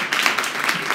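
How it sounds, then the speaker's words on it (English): An audience at a live event breaks into applause, a brief burst of close, busy clapping from many hands at steady loudness. "I'd really like for us to give her a big round of applause"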